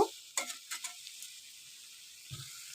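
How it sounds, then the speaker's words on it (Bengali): Water hits a pan of sautéed spice masala with a steady hiss, a few sharp clinks of a utensil stirring, then a faint low scrape near the end. "তো এবার পরিমাণ মতো জল দিয়ে দেব।"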